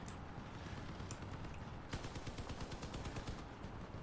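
Rapid, loud bursts of cannon fire over constant noisy background, with a fast rhythmic volley in the middle, from vehicle combat game Crossout.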